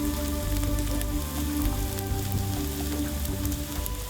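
Onions frying in a pan with a teaspoon of garlic powder, a steady close sizzle with crackling like rain on a surface, continuous and fairly loud with a low hum underneath.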